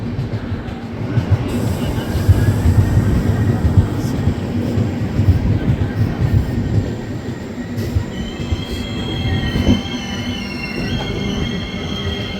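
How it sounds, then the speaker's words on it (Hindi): A train running through the Kasara Ghat, heard as a steady close rumble of wheels on rail with metallic squeals and faint clacking, from aboard a moving train with a voice speaking faintly. "वो सामने से कोई तो ट्रेन पास हो रही है भाई।"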